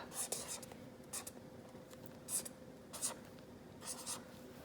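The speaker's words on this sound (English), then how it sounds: "Let's write it and mark it up." A pencil scratches on paper in a first-grade phonics lesson, in several short, soft strokes spread over a few seconds, faint and close against a quiet room hum.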